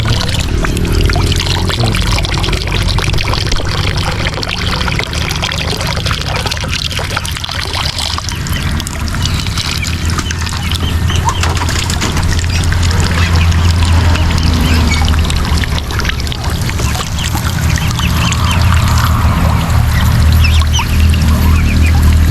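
Water pours and splashes steadily from a pipe into a watering spot for farm ducks and chickens, with ducks quacking and squawking nearby throughout.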